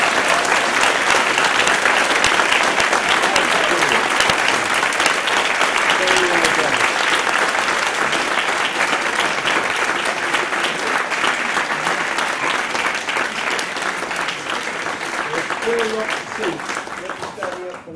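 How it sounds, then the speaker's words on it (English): Loud, sustained applause from a school audience after a house drama performance, dense clapping that holds for a long stretch with faint voices and a few cheers mixed in. "can we just give a huge round of applause?"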